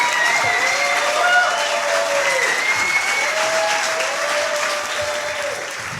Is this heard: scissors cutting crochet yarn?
no